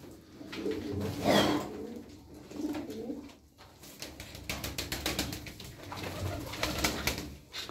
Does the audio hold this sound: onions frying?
no